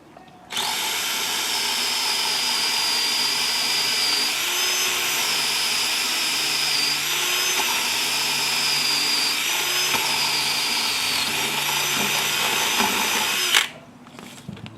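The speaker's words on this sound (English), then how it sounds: "we drill through our second hole." A power drill bores through a wooden fence post, a loud, close, continuous high whine that holds steady for about thirteen seconds with slight pitch wavering under load, then cuts off abruptly.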